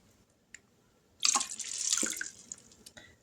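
A tap runs water into a pot of black-eyed peas in a home kitchen, a close, bright rushing stream lasting about two seconds after a brief clink, then trailing drips.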